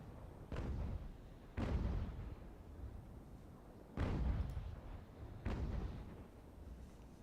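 Ship cannon broadside fire in a naval battle from Ultimate General: American Revolution, heard as four heavy booms spaced a second or two apart, each with a rolling decay, with no voices.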